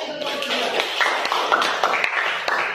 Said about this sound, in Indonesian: Mari kita beri aplaus untuk kelompok 2